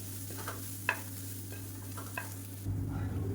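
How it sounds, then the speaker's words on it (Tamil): Kara podi rice being stirred in a pan on a switched-off gas stove, a few soft scraping strokes against a steady low hum, with a brief louder clatter near the end. "ஒரு மூணு கரண்டி அளவுக்கு சாதம் சேர்த்துருக்கேன் சேர்த்து நல்லா கலந்து விட்டுக்கலாம்"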